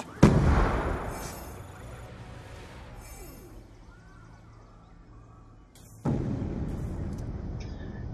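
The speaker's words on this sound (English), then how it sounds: "I got a little creative and threw a nade of my own" Grenade explosion in a video game, a sharp loud blast at the start that rumbles away into quiet ambience, then a second heavy burst about six seconds later.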